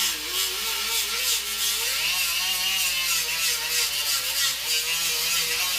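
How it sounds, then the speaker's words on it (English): A grinder grinding down welds on a 1994 Ford F150 fender: a continuous high, hissing abrasive whine with wavering tonal pitch as the disc loads and eases against the metal, steady and close. "So I'm going to continue grinding these welds down"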